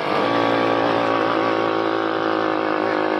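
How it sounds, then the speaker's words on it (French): A small quad bike engine with a slipping clutch and carburettor needing adjustment drones loudly and continuously, held at high revs with a strained, buzzing whine and no pauses. "c'est un quad. Et je crois que son moteur va vite me lasser."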